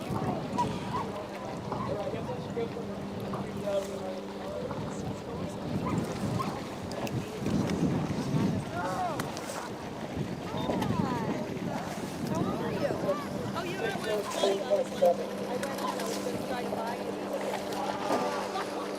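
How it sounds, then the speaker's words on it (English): A second varsity rowing eight returns from a race at a youth championship regatta, with steady water and hull noise mixed with wind buffeting on the microphone and people talking over it throughout. "here comes the second varsity 8 back from the race"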